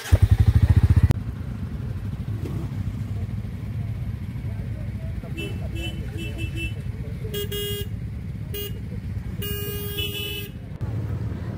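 A group of riders sets off together, engines rumbling steadily with a loud rev at the start, while horns toot in short repeated blasts and people talk over the din.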